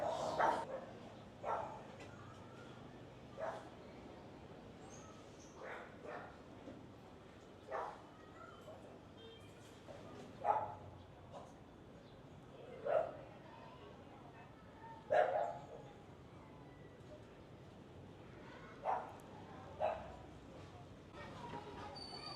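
Several dogs bark in short, scattered bursts at moderate distance inside a dim convent building, with a few sharper yelps standing out amid low room noise and occasional voices.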